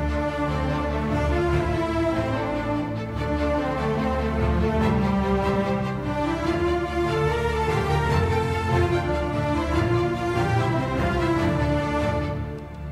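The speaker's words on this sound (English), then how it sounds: "Together with all the strings," A full orchestral string section plays an adventure action cue together, loud sustained and moving lines layered over driving short bowed notes, dense and continuous without any voices.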